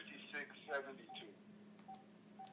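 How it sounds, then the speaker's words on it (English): Phone keypad tones entering a conference number: a few short beeps at irregular spacing over a faint steady hum, with a quiet voice in the background. "Bhumi, just read off the phone conference number to me. I'm going to try to put it on my home phone"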